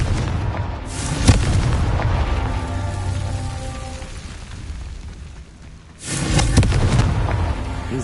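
Confringo blast spell in the video game Hogwarts Legacy, booming explosive bursts, one near the start and another heavier blast around six seconds, loud with rumbling low end between.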